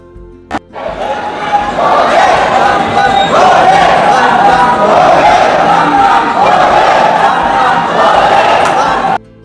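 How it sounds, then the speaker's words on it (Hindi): A large crowd at the Mahakal temple in Ujjain chants Bam Bam Bhole, a dense and loud rhythmic roar of many voices that is heard up close and keeps going without a break. "तो बम बम भोले के नारे लगाते हुए हम लोग आगे चलते हैं"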